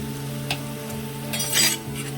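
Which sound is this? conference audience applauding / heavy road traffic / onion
onion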